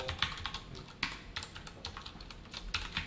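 Someone types code on a computer keyboard, giving quiet, irregular clicks and taps with a few sharper keystrokes standing out, close and soft with no talk.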